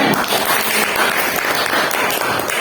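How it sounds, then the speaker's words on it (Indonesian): A loud, full burst of applause from a gathered audience of teachers after a poetry reading, continuous and close throughout. "tepuk tangan yang luar biasa untuk Pak Aldi"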